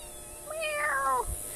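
A cat gives one clear, close meow that rises and falls over about a second, alone against a faint steady background hiss.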